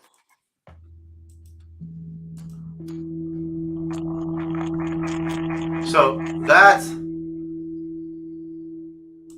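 A steady electronic tone representing the frequency of the planet Mercury, stacked across five musical octaves, holds as a continuous layered hum, with a voice speaking over it briefly near the end.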